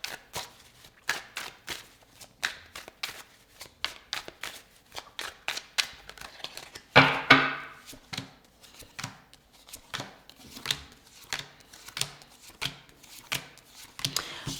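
Tarot cards being shuffled and drawn during a reading: a long run of quick, crisp riffling flicks and slaps with a brief louder burst midway, close and steady with no talking.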